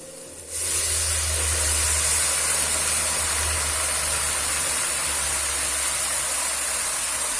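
Red wine hissing and sizzling as it deglazes a hot lamb pan, a loud, steady steam hiss that starts abruptly and holds over a low rumble.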